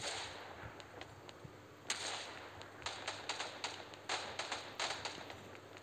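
Sharp cracks of gunfire in the video game Omega Legends pop in irregular bursts, some single and some in quick clusters, over a hissy background with no talking.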